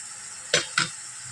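Mushrooms cooking in a pan with a soft, steady sizzle, broken by two quick stirring scrapes close together, with no talking.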